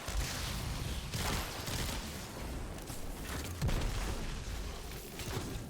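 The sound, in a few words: pulse rifle gunfire in Destiny 2 video game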